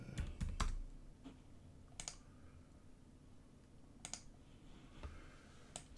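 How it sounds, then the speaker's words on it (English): Typing on a computer keyboard while entering a value in CAD software, a few quiet clustered key clicks spread across a near-silent room, close and soft. "Let's try and type in 90 in."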